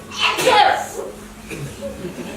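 A sudden sneeze bursts out near the start of an English-language Buddhist talk at a Vietnamese temple, then a person talks quietly afterward.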